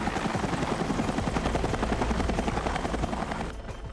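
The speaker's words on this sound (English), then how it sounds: "As the helicopter gets closer" A rescue helicopter during Hurricane Katrina flood operations, its rotor thudding loudly and steadily overhead, with a rapid chopping pulse that slightly drops away at the end.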